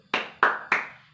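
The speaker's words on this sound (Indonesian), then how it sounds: "kita tepuk wudhu dulu ya bersama-sama" A first-grade class claps the tepuk wudhu chant together, three crisp, loud group claps at an even pace, each ringing out briefly before the next.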